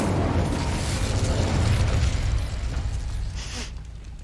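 Incendio fire spell cast in Hogwarts Legacy: a loud roaring burst of flame with a deep rumbling whoosh that sustains for a few seconds, then fades to quiet.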